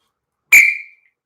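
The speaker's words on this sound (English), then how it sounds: "where is my whistle anyways?" A single short, loud, shrill whistle blast, bright and piercing, fading quickly in otherwise silent surroundings.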